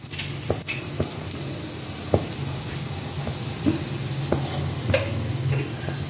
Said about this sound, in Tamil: உளுத்தம்பருப்பு போடுறேன் இதுக்கு.